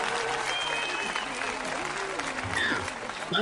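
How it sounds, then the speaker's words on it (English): Dense crowd applause roars continuously, loud and close, with voices talking over it. "Thunderous applause."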